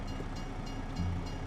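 A train rumbles steadily past in the video game Farming Simulator 25, a continuous low rolling drone throughout the short stretch.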